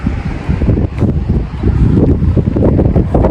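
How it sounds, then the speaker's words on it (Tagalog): Strong wind gusting outdoors on a street in Japan, buffeting the microphone with a loud, steady roar that swells and dips throughout. "Mahangin sa labas."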